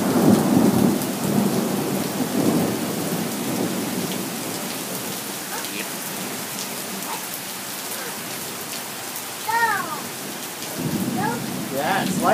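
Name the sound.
thunderstorm with rain and thunder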